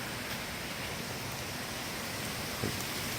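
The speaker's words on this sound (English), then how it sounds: "Powerful breeze, the rain, good stuff." Steady, dense storm rain with gusting wind hisses without a break for the whole stretch, loud and close, with a faint thump near the end and no talk.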